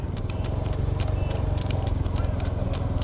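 Racing bulls pound along a dirt track pulling a cart in a Tamil Nadu bullock cart race, a rapid continuous drumming of hooves with rattling and clatter, loud and close under distant shouting.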